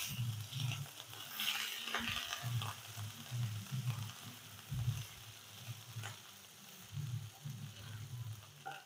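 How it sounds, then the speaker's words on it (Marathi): Crushed ginger and green chili paste sautéing with cumin in a pan, a soft, steady sizzle with irregular low knocks and scrapes from stirring, fairly quiet and close. "आलं आणि मिरचीचा ठेचा टाकायचा. हे जरा परतून घेऊयात छान आपण."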